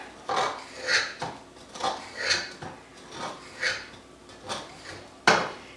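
Hot cornbread baked over bacon grease is cubed in its pan: about seven rhythmic, close scraping cuts with soft knocks against the pan, steady and unhurried, with no talking.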